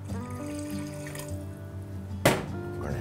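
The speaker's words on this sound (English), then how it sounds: "and we're gonna add our water." Water poured into a cooking pot for fish stew, a steady continuous pour with a brief louder splash near the end.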